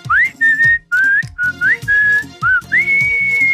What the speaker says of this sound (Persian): سوره قل هو الله با سوت.